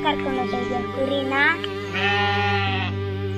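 A sheep bleats several times up close. Its wavering calls overlap with a steady low hum, and there is some background noise at a village festival setting.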